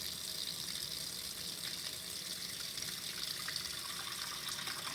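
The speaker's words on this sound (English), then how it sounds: "Now, when I'm going to use hot water, okay, I'm going to wait until it gets hot." Hot water runs from a kitchen sink tap in a steady, continuous hiss and gush, fairly soft and close, with no talking over it.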